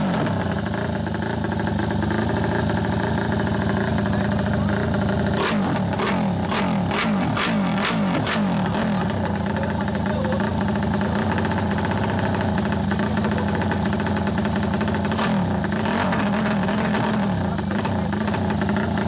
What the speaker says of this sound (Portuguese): Só pra maciar o motor.